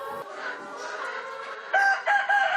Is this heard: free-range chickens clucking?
yes